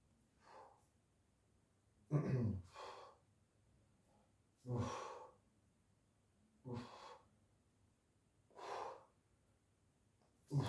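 Slow, deliberate exhalations during a chest exercise with a resistance band, five or six breathy puffs spaced a couple of seconds apart, close to the microphone in a quiet room.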